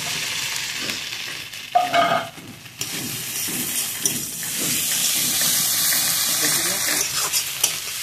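Fried potatoes and pointed gourd go into frying masala and are stirred, giving a steady sizzle with scraping spoon strokes and a brief splashing clatter as the vegetables drop into the hot pan.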